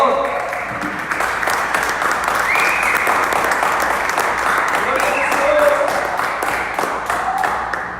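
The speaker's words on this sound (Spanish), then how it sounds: "Aplaudan al Rey, por favor" A church congregation applauds in dense, sustained clapping that fills the room at a steady loud level, with voices mixed in beneath the applause.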